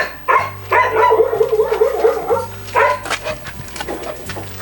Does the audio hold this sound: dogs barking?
yes